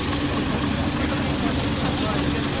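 A car engine idles steadily to circulate its oil, with a constant, even low rumble close by. The sound runs unbroken with no spoken words over it.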